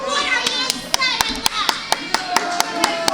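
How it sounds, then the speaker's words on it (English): A commentator at a women's championship pro wrestling match in Yanceyville, North Carolina claps his hands in a sharp, irregular series of close, distinct claps, heard over chatter and children's voices in the crowd. "I had to clap for her"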